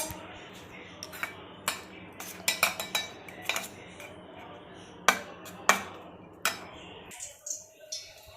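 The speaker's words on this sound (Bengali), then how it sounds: "যে ডিমটা ফাটানো হয়ে গেছে," Eggs being cracked against a bowl while cooking at home, three eggs in all: a scatter of sharp, close clicks and taps at irregular intervals over a low, steady kitchen background.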